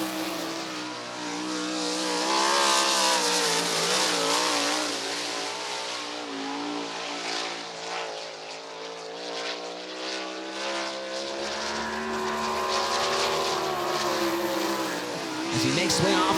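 Late model dirt race car at the Commonwealth Clash, a $50,000-to-win event, loudly revving and roaring steadily down the track with a rising and falling engine note, while a commentator talks over it throughout.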